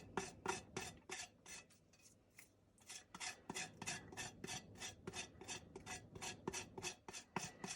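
Repeated raspy scraping strokes as a knife shaves rind off a wheel of brie cheese, steady rhythmic passes close up, with a brief pause partway before the scraping resumes.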